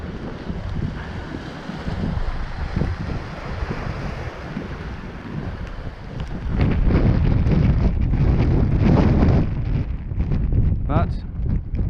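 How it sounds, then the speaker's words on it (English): Strong wind gusting across an exposed beach during a wet fishing session, a loud steady roar of wind buffeting the microphone over surf, growing heavier in the second half. "That wind's too much."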